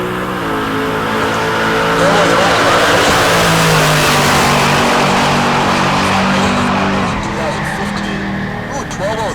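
A Duramax diesel Chevelle makes a drag racing pass at Heartland Park Topeka during a race week event, with a loud, sustained engine roar that rises and carries steadily down the track while a commentator talks over it.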